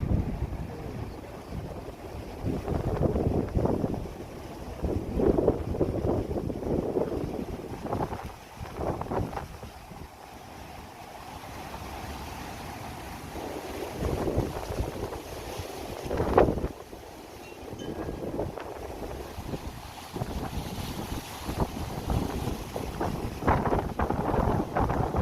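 Strong offshore wind buffets the microphone at Ventura's C Street beach during big-wave surfing, gusting in loud rough bursts over the rumble of breaking surf, rising and falling throughout.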